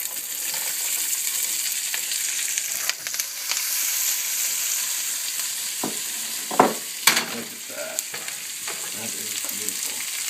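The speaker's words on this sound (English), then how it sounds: "We're going to be cooking our veggies, sauteing them with that oil." Vegetables sauteing in oil in a frying pan for a primal scramble, a steady sizzle running throughout with a few louder clinks and stirring knocks from utensils near the end.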